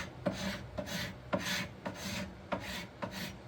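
Rhythmic rasping scrapes of a hand scraper stripping old paint or lacquer from a 1952 wooden dresser, about six strokes with regular pauses, close and alone.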